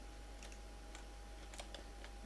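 Keys clatter on a computer keyboard in a few sparse, faint clicks over a steady low electrical hum.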